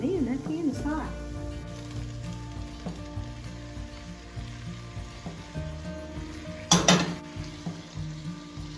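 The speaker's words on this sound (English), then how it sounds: "I'm gonna add my beef Ooh, man, that pan is hot." Beef hits a very hot pan and sizzles steadily throughout, with someone talking over the frying and a sharp clatter of cookware near the end.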